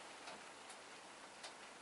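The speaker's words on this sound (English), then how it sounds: "there is some very slight rain going on right now" Very slight rain falls outdoors as a faint, even hiss, with a few soft drop ticks scattered through it and no voices.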